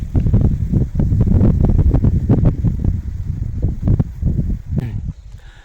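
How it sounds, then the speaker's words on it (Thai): Strong wind at a riverside resort by the Lam Phra Phloeng reservoir near Khao Yai buffets the microphone in loud, gusty rumbling waves that ease off toward the end. "แล้วก็ลมแรงนะครับ"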